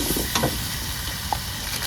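Turmeric and Kashmiri chili powder land in hot oil, raising a dense, even hiss of frying that fills the whole moment, close and steady, with a faint clink near the start.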